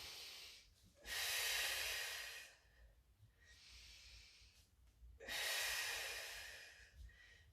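Exaggerated breathing during a mini loop Pilates exercise: two long, loud, forceful breaths, each rushing for about two seconds with quieter pauses between, close to the microphone and with no talking.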